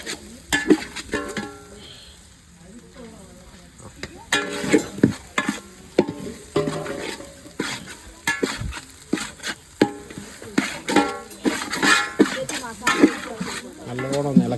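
Fenugreek powder, added with black pepper, is stirred in a frying pan, with bursts of spoon scraping and soft sizzling that come and go, quieter in the pauses.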